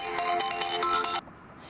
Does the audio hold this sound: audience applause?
no